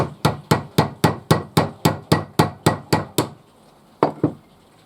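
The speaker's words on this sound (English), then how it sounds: "depending on what size nail you want, you might need to hammer it in" A hammer strikes a nail about a dozen times in a steady, quick rhythm, pauses, then lands two final blows, close and sharp.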